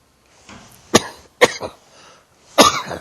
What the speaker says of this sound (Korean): 기침이 나오네